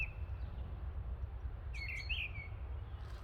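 A single bird gives a couple of thin, high chirps around mid-clip over a steady low rumble of background noise at a farmland campsite near Buxton; the call is faint and somewhat distant.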